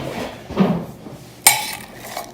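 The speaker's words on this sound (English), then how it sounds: "Now I'm going to use a spoon to kind of stir it all together." A spoon clinks against a crock pot while stirring barbacoa ingredients, with one sharp metallic tap and a few soft scraping knocks, close and fairly quiet.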